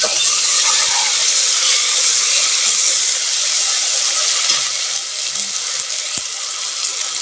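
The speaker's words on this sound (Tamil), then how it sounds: "அதையும் நல்லா பச்சை வாசம் போகிற வரைக்கும் வதக்கி வச்சுக்கணும்" Ginger garlic paste sautéing with onions in a pan for mushroom biryani, a steady loud sizzling hiss that runs the whole time with no talk over it.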